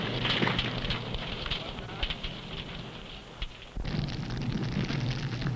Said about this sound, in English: Sometimes the explosive detonates because of close confinement and intense heat.